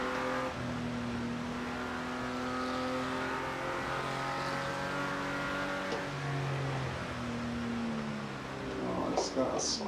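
Car engine in Project CARS 2 driving on snow, a steady close drone holding a higher gear with shifting tonal pitch and faint tire noise at the end, a voice talking over it.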